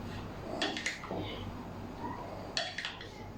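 A spoon stirs fruit chaat in a bowl, giving a few light, close clinks and scrapes against the dish in two short clusters over quiet background noise.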